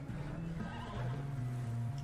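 A horse in Red Dead Redemption 2 lets out a quiet, drawn-out whinny with a low, wavering tone that lasts about two seconds.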